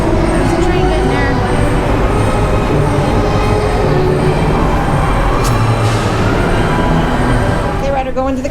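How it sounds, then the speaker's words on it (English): A theme park train pulls into a cool indoor station at Universal, its steady rumble and rolling wheel noise filling the space loudly and continuously, with a faint squeal near the end under nearby voices. "There's a train getting there."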